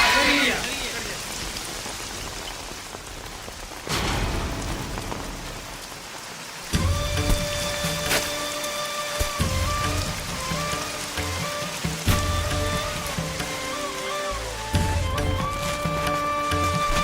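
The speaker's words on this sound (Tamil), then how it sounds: "ஏய் மழை வந்துருச்சு" Heavy rain pours down steadily on a rural farm setting with stacked paddy sacks, a dense continuous hiss throughout, with background music and brief shouting voices layered over it.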